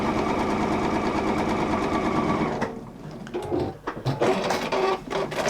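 A sewing machine stitches a quilt seam, a steady rapid mechanical whir for a few seconds that then slows into uneven, stuttering bursts of stitches close by.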